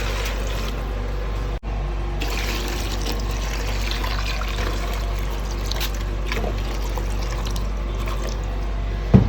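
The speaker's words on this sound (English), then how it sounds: "So now I'll be adding in water." Water pours into a cooking pot set up for steaming pap and moi moi, a continuous splashing trickle over a low background hum, close and steady with a brief break partway through.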